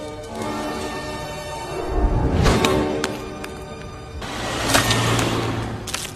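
A car rolls slowly over walnuts left on the road by a crow, with engine rumble and a couple of sharp crunching cracks near the middle and again toward the end.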